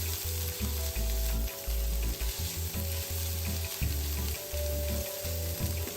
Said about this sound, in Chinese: 接着将切丁后的香菇倒入一起炒香